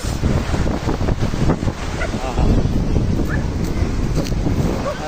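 Sea waves wash against the shore of a coastal village in Misamis Oriental, Philippines, under heavy wind buffeting the microphone, a loud, continuous rumbling roar with gusty surges throughout.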